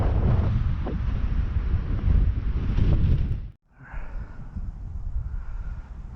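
Wind buffeting an outdoor microphone on a frozen lake while ice fishing, loud rumbling gusts that drop out sharply midway, then return as a softer, steadier rush.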